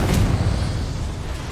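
Spell blasts from the Bombarda and Confringo charms in Hogwarts Legacy, a sharp booming burst at the start followed by a rumbling low roar that slowly fades.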